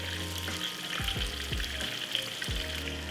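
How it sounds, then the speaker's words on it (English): Pieces of tofu deep fry in hot oil with a steady bubbling sizzle, close and even, while a low hum and a few sliding tones run underneath. "But I love deep fried stuff, so I'm gonna deep fry them."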